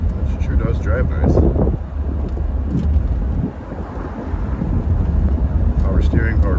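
A 1962 Ford Thunderbird convertible with roadster kit driving on the road: a steady low engine and road rumble with wind buffeting at the microphone, someone talking intermittently over it.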